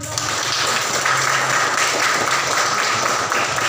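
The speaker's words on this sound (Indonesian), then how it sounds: "Tepuk tangan." Classroom applause from a group of students, a steady dense clapping that fills the whole stretch at fairly loud level with no break.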